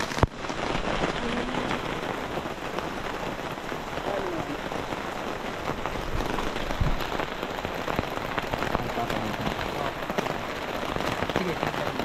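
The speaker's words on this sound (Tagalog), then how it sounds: "Inabot na kami ng ulan dito, ha?" Rain falls steadily on a mountain hiking trail, a dense, even hiss of drops close by that continues without a break.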